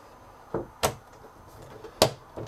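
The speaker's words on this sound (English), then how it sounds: "that is just going to close and hold there by magnets" A Keystone Cougar 29RKS travel trailer door swinging shut and catching on magnets, giving a few sharp thumps and clacks close by in a quiet interior, with no one talking.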